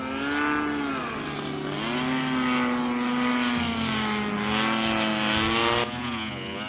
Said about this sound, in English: Here, the aircraft is switched into autonomous mode as it hits its first waypoint.